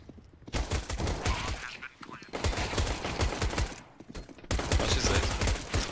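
Rapid bursts of automatic gunfire from the video game Counter-Strike: Global Offensive, loud and clustered into several sustained volleys with brief pauses between them, and no talking.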